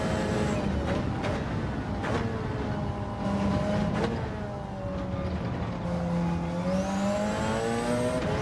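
Race cars from the Gran Turismo 7 video game during a four-hour Le Mans endurance race whip past in succession, their engines whining with rising and falling pitch and sweeping by continuously at steady loudness.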